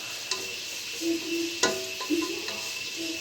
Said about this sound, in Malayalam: ഇനി നമുക്കൊന്ന് ഇച്ചിരി ഇളക്കി കൊടുക്കാം